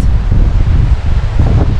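Strong wind buffets the microphone near a coastal cliff edge on Norfolk Island, a steady loud rushing roar with gusty low-frequency rumbles throughout.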